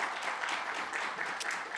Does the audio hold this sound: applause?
yes